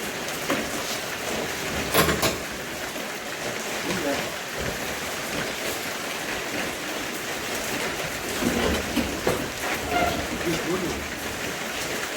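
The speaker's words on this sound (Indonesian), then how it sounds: "Hujan-hujan." Rain pours steadily outdoors, a dense continuous hiss with scattered louder patters, while voices murmur faintly underneath.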